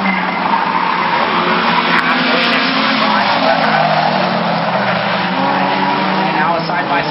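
Race cars roaring around the Brighton Speedway oval in a competition heat, a continuous loud engine drone with tire squeal, under a commentator calling the race.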